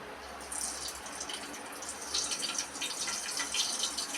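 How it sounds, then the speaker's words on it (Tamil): Mustard seeds crackle and pop in hot oil while a rasam is being made, a dense, steady sizzling hiss with tiny scattered pops, close and fairly quiet throughout with no talk. "கடுகு நல்லா பொரியுது."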